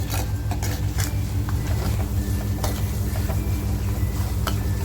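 Onion frying in a pan until golden as part of a mutton dish, a steady broadband crackle with soft stirring scrapes throughout, continuous and fairly close with no talking.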